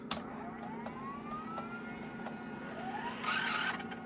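A stiff Tapechek video cleaner machine runs with a steady mechanical hum and rising, whining motor tones, ending in a brief louder whirring burst.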